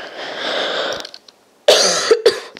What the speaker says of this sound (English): Just had to move my mic away so I could cough